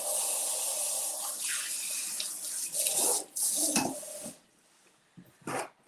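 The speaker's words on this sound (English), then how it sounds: "Let me wash my hands." Hands being washed under a running kitchen tap, a steady close hiss of flowing water with splashing and shifting bursts as hands move through the stream, then the flow cuts off near the end.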